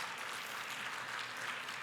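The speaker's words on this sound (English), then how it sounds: "let's give our participants, our students, a big round of applause" A conference audience at MICECON 2023 gives a short burst of applause for student participants, a dense, even wash of clapping heard alone.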